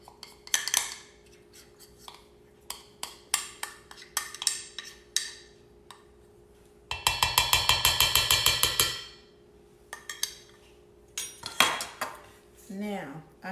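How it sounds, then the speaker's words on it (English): A spatula working a whole jar of peanut butter into cookie dough in a bowl, with scattered scrapes and knocks, a fast rhythmic clatter in the middle, and a voice briefly speaking near the end. "I'm going to use my spatula to start this out and get all this peanut butter mixed in"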